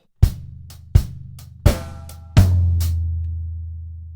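Bar 18 of a Trinity College London Grade 4 drum kit groove: four sharp hits about 0.7 seconds apart mixing hi-hat, bass drum and snare, ending on an accented floor tom whose boom rings out.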